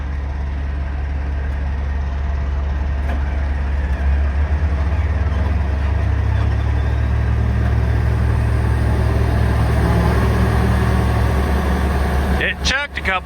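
A frozen excavator's engine cranks and runs with a steady, loud low rumble throughout, closing with a few sharp knocks and rattles near the end.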